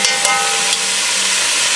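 Shredded beef sears in olive oil in a hot pan, giving a steady, close, even sizzle that holds at one level with no talk, just a few brief crackles near the start.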